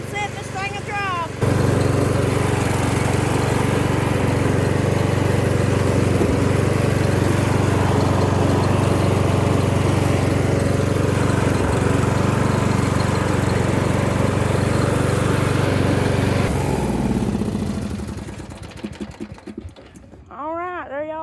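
A Yard Machines riding mower that had sat unused for a month, its carburetor still needing work, runs with a loud, steady, close engine drone while driving, then winds down at the end as someone talks.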